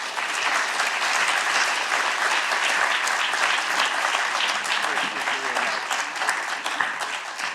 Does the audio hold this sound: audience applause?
yes